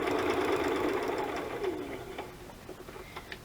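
A sewing machine runs a straight stitch on a decorated maple leaf wood-burned cover, a steady close whirring hum that fades after about two seconds, followed by lighter mechanical ticks.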